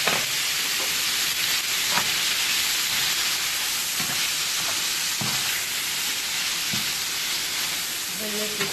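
Potatoes, courgette and lardons fry in oil in a pan, giving a loud, continuous sizzle with occasional crackles and a few soft knocks of stirring throughout.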